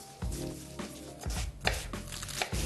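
A knife chops onions on a cutting board in quick, crisp strokes, about six close, loud cuts alone with no talk.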